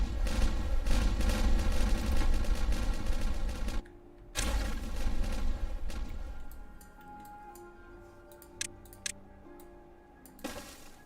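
Explosives detonating in a Minecraft-style video game, a loud rapid fusillade of blasts sounding continuously, briefly cutting out and returning, then fading to sporadic sharp pops and cracks near the end.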